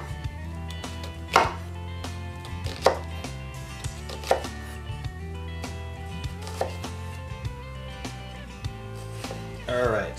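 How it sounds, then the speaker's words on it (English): A knife slices through an onion on a cutting board for an oyster mignonette, with a handful of sharp, close chopping strikes spaced a second or more apart over a steady background hum. "So we got all our slices in the onion."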